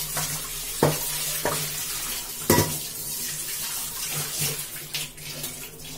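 Tap water runs steadily into a magic pot after scrubbing off burnt-on food, with a few close metallic clanks and knocks as the pot is handled and rinsed under the faucet.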